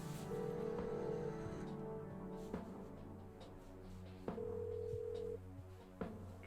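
Telephone keypad tones sound as a number is dialed in the point-and-click adventure game Kathy Rain, two sustained beeps standing out over a steady synthesized background with a few sharp clicks.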